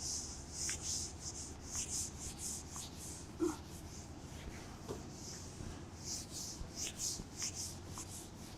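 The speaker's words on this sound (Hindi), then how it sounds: "रब कर देते हैं इसको।" An eraser or duster rubs writing off a board during a Class X maths lesson, giving repeated scratchy, brushing strokes at close range with a steady low room hum and no talking.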